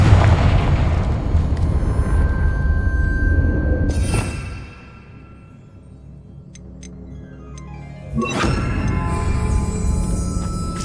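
A Confringo fire spell exploding in the Hogwarts Legacy game, heavy booming blasts with a deep rumbling tail, then a brief quieter lull before another loud burst of crackling impact.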